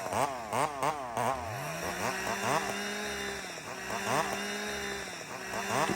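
A chainsaw revs hard through a round of arbutus wood, its engine note rising and dipping through the cut before a sudden lurch as the bar kicks back and the chain brake trips, then the saw idles on.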